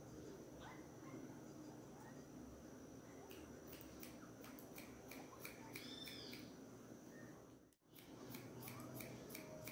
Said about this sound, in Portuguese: Eu tô cortando bastante porque faz mais de 2 meses que eu não corto o cabelo do Abraham.